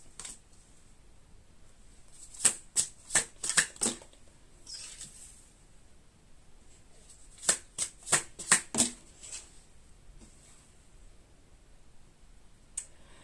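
Cards are shuffled during a card reading in two clusters of quick, crisp riffling snaps, close and distinct, separated by quiet pauses.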